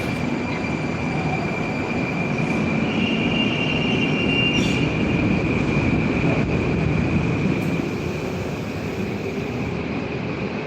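Moscow metro train running, heard as a continuous loud rumble with a sustained wheel squeal and a few brief screeches along the way.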